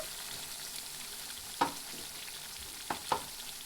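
Mutton curry simmers in a pan with a soft, steady sizzle and bubbling, faint and close, broken by a few light stirring knocks.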